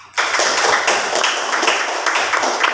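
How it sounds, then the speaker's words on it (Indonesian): A junior high classroom of students breaks into loud, close applause, many hands clapping together in a dense, steady patter that starts abruptly and keeps going. "Tepuk tangan juga untuk Rofi dong."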